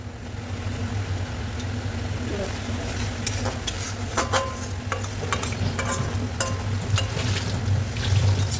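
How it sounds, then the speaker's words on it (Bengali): Masala for prawn malai curry frying in a pan while being stirred, a constant close sizzle broken by repeated sharp scrapes and clicks of the spoon against the pan, with no talking. "ভালো করে কষিয়ে নিই।"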